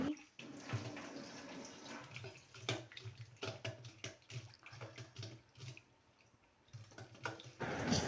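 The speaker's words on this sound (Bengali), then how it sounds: "চিড়েটা একটু ভালো করে জল দিয়ে চিড়েটা ভালো করে জল দিয়ে ধুয়ে নিলাম" Flattened rice (chira) being rinsed with water, faint close splashing and sloshing in uneven bursts with soft trickles between them.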